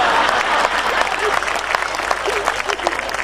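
An audience claps at a Hindi poetry recital, kavi sammelan style, with dense, loud applause from a large crowd, steady and sustained, with a few voices mixed in.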